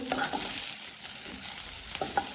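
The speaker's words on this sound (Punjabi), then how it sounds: "ਆਪਾਂ 2-3 ਮਿੰਟ ਇਹਨਾਂ ਨੂੰ ਸ਼ਿਮਲਾ ਮਿਰਚ ਭੁੰਨ ਲਿਆ" Capsicum fries and is stirred in a pan, giving a close, crackling sizzle broken by a few sharp clinks of the spoon against the pan.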